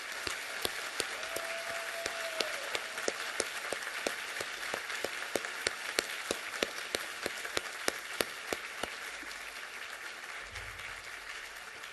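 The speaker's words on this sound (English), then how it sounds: "a great big round of applause for our newly inducted Golden Horseshoe winners" Audience applause for newly inducted Golden Horseshoe winners at an awards ceremony: a steady, moderately loud patter of many hands clapping, with crisp individual claps standing out, lasting the whole time without talking.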